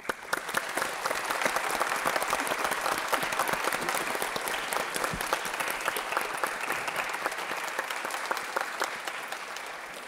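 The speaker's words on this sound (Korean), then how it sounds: "박수로 맞아주시기 바랍니다" Audience applause welcoming a county governor to the stage at a public forum, a steady dense wash of many hands clapping for the full stretch, moderately distant and even, with no talk over it.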